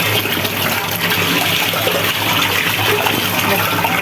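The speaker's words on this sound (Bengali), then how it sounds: "মাছগুলি এই যে ভালো করে ধুয়ে নিচ্ছি" Tap water runs steadily and loudly as freshly cut fish are rinsed clean by hand, a continuous close-up splashing rush with no pause.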